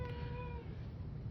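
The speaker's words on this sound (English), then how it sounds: "If you hear that noise, it's my cat in the background." A house cat meows in the background, one drawn-out cry that fades after about half a second, leaving low room noise.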